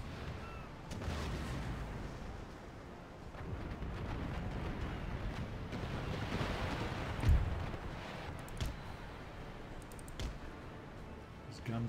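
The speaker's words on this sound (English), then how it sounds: "Was a nice volley." A musket volley in the Empire Total War game, a dull low boom with rumbling distant gunfire in the background.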